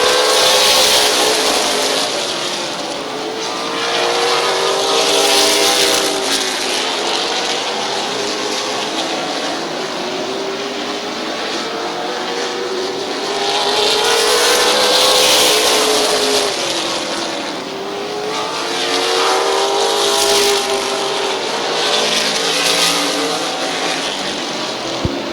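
Race cars roar past at Midvale Speedway, engines rising and falling in repeated passing sweeps as the pack circles the track, loud and continuous with no talk over them.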